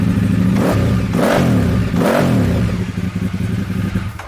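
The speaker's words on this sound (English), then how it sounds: "Because I can start her up right now." A 2012 Ducati 848 Evo motorcycle engine starts and runs, loud and close, with two strong revs climbing and falling, then a rough, pulsing idle.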